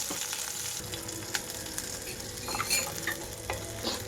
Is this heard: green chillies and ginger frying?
yes